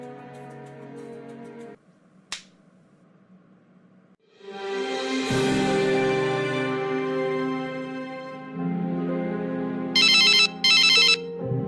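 A mobile phone ringtone plays a melodic electronic tune that swells for several seconds, ending in a couple of bright, high repeating bursts, set in an animated cartoon scene.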